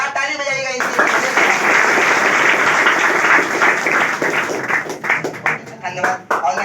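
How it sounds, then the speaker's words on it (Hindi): An audience at a class 10 prize distribution in Kurtha applauds with a dense, sustained burst of clapping that thins out toward the end. A voice speaks over it. "जोरदार ताली बजाइएगा इनके लिए।"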